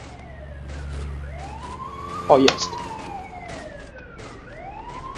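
A wailing ambulance siren in the video game GTA 2 sweeps up and down over engine rumble, with a sharp thump midway and a short spoken remark.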